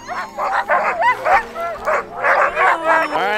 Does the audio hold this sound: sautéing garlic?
no